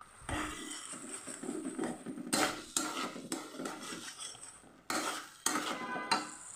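A spatula scrapes and stirs a paste of ginger, garlic, onion and green chili frying in a pan for a Bengali magur fish curry, with soft sizzling and irregular metallic clinks against the pan.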